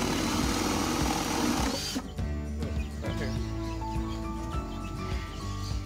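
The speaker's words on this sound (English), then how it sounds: "He's just using a spade bit to put some holes in this." A power drill with a spade bit whirs and bores holes into a wooden nest box, starting loud and then continuing in a steadier, grinding drone with small bumps and knocks.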